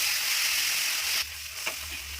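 Spice paste of cumin, coriander and red chilli hits a hot pan for butter chicken, a bright steady sizzle that drops suddenly to a lower, muffled frying hiss with a brief stir.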